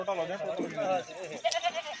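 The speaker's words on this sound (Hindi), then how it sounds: "ये 4 नंबर पे बकरी जा रही है" A goat being loaded as livestock cargo in Okara gives a couple of short, wavering bleats close by, the second near the end, mixed with someone talking over and between the calls.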